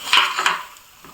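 A spoon scraping and clinking against a pan while stirring curry masala, two or three quick close metallic strokes that then fade.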